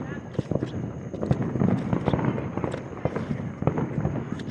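Fourth of July fireworks explode in a rapid crackling series of sharp pops and bangs at moderate distance, dense and continuous over a low background murmur.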